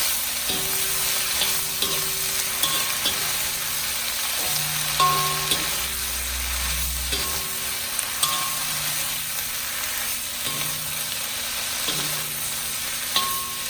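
Frozen vegetables cooking in a hot pan for fried rice, a steady dense sizzle with occasional stirring knocks and scrapes, close and continuous.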